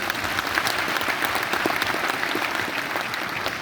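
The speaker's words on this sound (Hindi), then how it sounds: "जोरदार तालियां" A crowd at a Constitution Day eve political rally applauds loudly and steadily, a dense continuous clatter of many hands clapping with no break.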